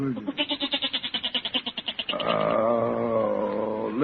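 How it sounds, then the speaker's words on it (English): A goat bleats in a rapid, quavering burst of about a dozen pulses, followed by a longer, steadier drawn-out cry, close and fairly loud, set in a 1945 radio comedy. "Oh, listen to that goat, Peg."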